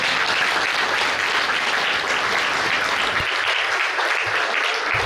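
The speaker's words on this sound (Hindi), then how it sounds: "तो दादी जी के लिए जोरदार ताली होगा" A hall full of people at a Brahma Kumaris honour ceremony and gathering in Karnal applauds loudly and continuously, a thick roar of clapping that holds steady throughout and thins slightly near the end.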